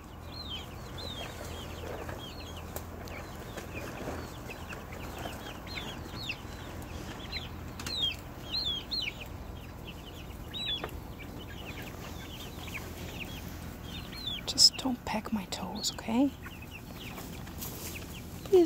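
Chickens in an aviary cluck and murmur softly, short repeated calls scattered throughout with a busier burst near the end, set against quiet background noise and no talking.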